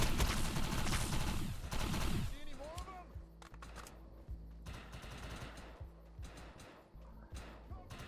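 Gunfire in a shooting video game: a dense, loud burst of rapid automatic fire at the start, then quieter scattered shots and game effects with sporadic sounds continuing.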